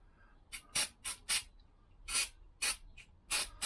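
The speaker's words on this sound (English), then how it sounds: "I'm going to put a bit of spray on it" Short bursts of aerosol spray hissing close by onto a Lambretta scooter part, about ten quick sprays in an irregular rhythm with brief pauses between them.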